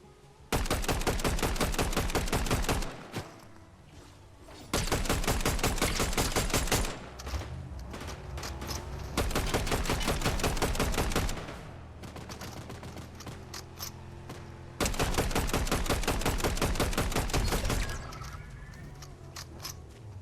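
Bursts of rapid automatic gunfire from the Fortnite video game, loud and close, come in several long volleys separated by brief pauses and quieter scattered shots, with no talking.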